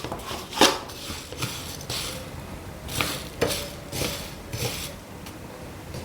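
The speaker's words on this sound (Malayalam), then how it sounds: "ഇടയ്ക്കൊന്ന് ഇളക്കി കൊടുത്തുകൊണ്ടിരിക്കുക," Coconut chutney powder being stirred in a pan for Kerala-style chammanthi podi, with a handful of scraping and clinking strokes of a spoon against the pan, spaced irregularly, fairly quiet and close, with no talking.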